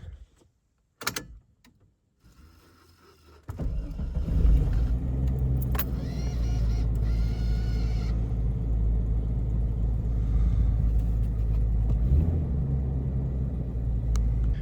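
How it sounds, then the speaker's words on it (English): A Jeep Cherokee XJ's engine cranks and catches after a few faint clicks and a door-like thud, then settles into a steady, loud low idle rumble with a brief rev near the end. "I'm going to start her up and"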